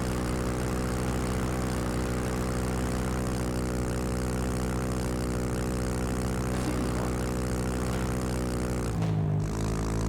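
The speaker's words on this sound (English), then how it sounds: "That what you're hearing is a constant rumbling of an engine" A car engine in the Mon Bazou driving game drones steadily and loudly throughout, a constant low rumble that briefly dips near the end.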